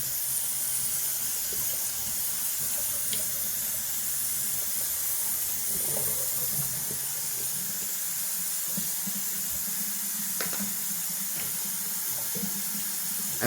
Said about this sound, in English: I'm going to let some of the water out. I'm going to do a cold water rinse.